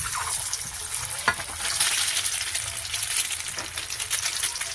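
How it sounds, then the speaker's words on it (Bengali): Boiled egg halves frying lightly in hot oil in a heated kadai for a mustard egg dish, a continuous close sizzle with occasional spatters and soft stirring clicks, no voices. "আজ একটু ডিমটাকে ভেজে নেব। কড়া গরম হয়ে গেছে, তেলও গরম হয়ে গেছে, তেল দিয়েছি, একটু হালকা ভেজে নেব।"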